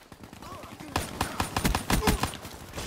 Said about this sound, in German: Ich probiere jetzt mal die Pistole aus,